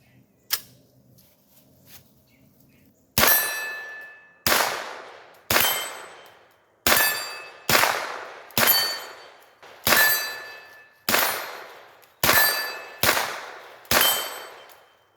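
Roughly a dozen sharp rifle shots from a Bear Creek Arsenal 965N with a 10.5-inch stainless upper crack at uneven intervals, each followed by a ringing metallic clang from steel targets downrange.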